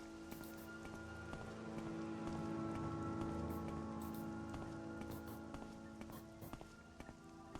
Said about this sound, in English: I think the rain's letting up